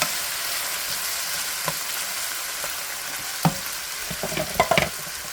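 Half a Vidalia onion and drained pinto beans fry in a pan over turned-down heat, a soft continuous sizzle with occasional scrapes and clinks of stirring toward the end.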